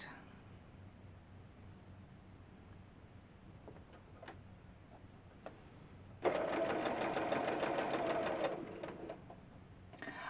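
A sewing machine stitching pieces of a nine patch quilt block whirs in a steady, fairly loud burst of about two seconds after a quiet stretch of faint ticks and handling noises.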